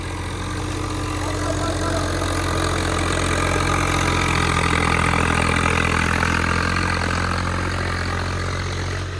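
An 855 tractor sits idling in a maize field, its engine a loud, steady, even rumble close by that holds for the whole stretch without revving.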